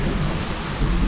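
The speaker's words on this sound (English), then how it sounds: "We got some rain coming in." Steady rain hisses with a low rumbling undertone, dense and continuous over a brief moment.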